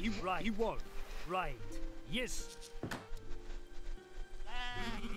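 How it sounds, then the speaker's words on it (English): Sheep in the Age of Empires III strategy game, in a British versus Sioux match, bleat repeatedly in quick wavering cries, some overlapping, over a soft sustained game tone. "Moving some random sheep around, and I suppose I'm also going to try to herd these ones."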